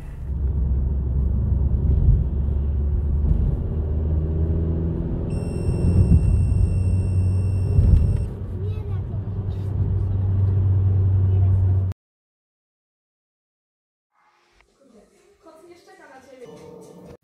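A Ford Focus Mk2 running on LPG gas drives along, its engine giving a steady low rumble with road noise for about twelve seconds, then the sound cuts out abruptly, leaving near silence before faint rustling noises.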